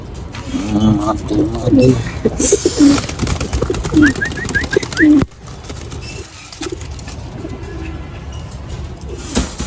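Pigeons coo softly and repeatedly up close while someone talks and catches them in a loft, with handling noises and a few chirps mixed in.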